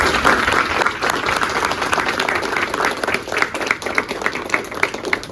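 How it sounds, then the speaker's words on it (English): An audience at a panel discussion on building D2C brands gives the panelists a big round of applause, steady crowded clapping throughout with a few sharper individual claps near the end. "give a big round of applause"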